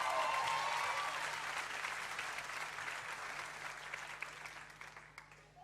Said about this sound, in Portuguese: Quero pedir uma salva de palmas para esses dois.